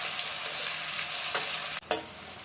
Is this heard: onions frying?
yes